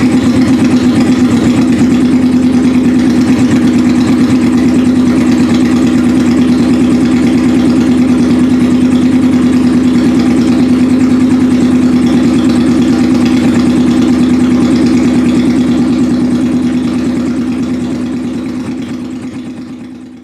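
A Yamaha R1 motorcycle engine idles steadily after its first startup following a project revival, with a loud, close, constant low drone that fades at the very end.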